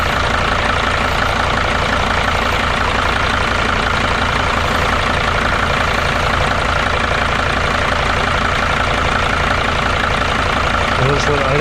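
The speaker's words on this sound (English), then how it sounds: "I'll just let it idle for a while." A Mercedes Sprinter T1N van engine idles at steady, even volume with a low rumble and fine ticking close by.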